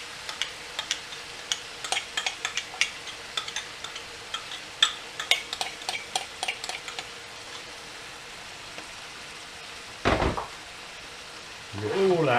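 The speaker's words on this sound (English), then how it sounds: "And I'll add in my thickened beef stock now." Thickened beef stock poured into a pan of shepherd's pie filling and stirred, with a string of sharp spoon taps and scrapes against the pan, then a louder splash and a brief voice near the end.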